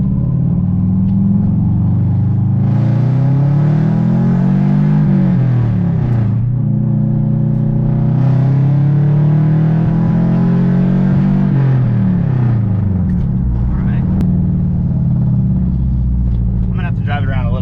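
A car being driven gives a steady low engine rumble that rises and falls with the throttle through the whole stretch, with a voice talking over it.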